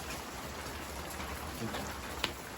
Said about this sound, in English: They literally didn't even call for rain today